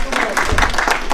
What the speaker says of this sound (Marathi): यशसाठी टाळ्या